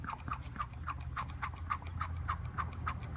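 A hand vacuum pump is worked on a turbo wastegate line of a 2004 Volvo XC90, giving a quick, even series of soft squeaky strokes, about three per second, close by over a faint low hum.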